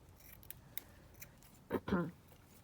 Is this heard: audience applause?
no